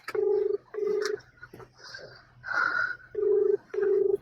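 A phone places a call with a series of dial-tone beeps. Short, clear electronic pulses repeat in pairs, broken by a brief warbling ring tone in the middle.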